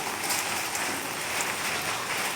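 Steady rain pours onto an outdoor guppy pond, a dense continuous hiss of drops striking the water, even and close throughout with no voices.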